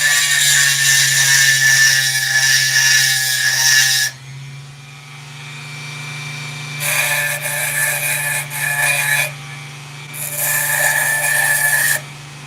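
A lapidary machine sands stone on 100 grit: a steady humming motor runs throughout, broken by three loud bursts of harsh abrasive grinding.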